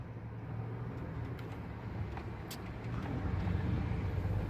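A 1990s Ford F-150 half-ton pickup drives along, its engine a low steady rumble with road noise that swells slightly near the end, no voices.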